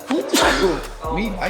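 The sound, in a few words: sneeze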